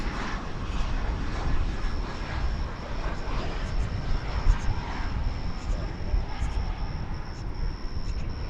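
An American Eagle Embraer 175 jet arriving at Dallas Fort Worth Airport, a steady loud engine roar with broadband rumble throughout, heard from the spotting area.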